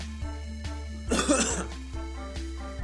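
A single harsh cough, close and fairly loud, over a steady background hum with faint rhythmic ticking.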